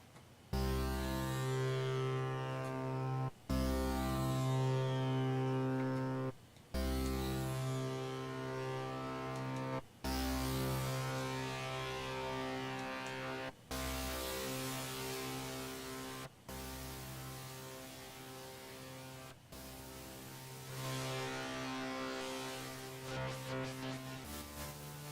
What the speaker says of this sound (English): I'm going to turn up the distortion on this instrument I made, and I want you to have a listen